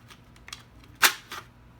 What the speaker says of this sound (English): that's how the bolt release works